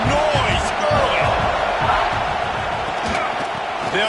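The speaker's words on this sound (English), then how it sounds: "This crowd bringing the energy and noise early" A stadium crowd in College Football 26 roars steadily throughout a South Carolina vs Tennessee game, a dense, loud wash of cheering with commentary voices talking over it.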